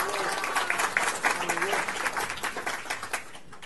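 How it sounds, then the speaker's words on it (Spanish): Audience applause at a country-brand licensing conference in Latin America: steady, dense clapping from a seated crowd lasting several seconds, with a voice faintly audible underneath. "Un aplauso."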